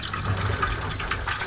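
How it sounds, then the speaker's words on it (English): Hot water pouring into an Eheim 2213 aquarium filter canister, a steady rushing, gushing fill that runs continuously and fairly loud from start to finish with no talk. "you're going to fill up the canister, and then the water will simply go down and out through the end of the hose on this end over here"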